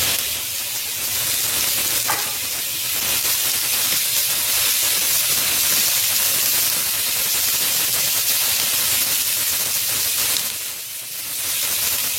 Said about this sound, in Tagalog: So I use a pressure cooker para po mabilis lang ang pagluluto.